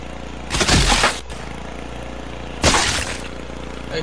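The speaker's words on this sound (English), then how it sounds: "Hey look, it's Lawnmower Larry." Lawnmower engine of the Lawnmower Larry character in the video game Happy Wheels: a steady low mechanical hum runs throughout, broken by two loud crashing bursts, one near the start and one past the midpoint.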